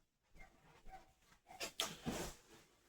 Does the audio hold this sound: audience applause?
no